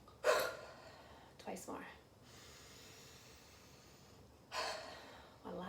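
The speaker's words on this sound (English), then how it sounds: "You're going to let them drop down hard with a strong exhale." Strong, forceful exhales from a person dropping the shoulders in an upper-back release exercise: several sharp, breathy bursts spaced seconds apart, close and fairly quiet, with a voice speaking briefly between them.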